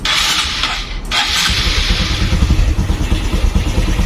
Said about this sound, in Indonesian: Saya akan coba nyalakan mesin dulu.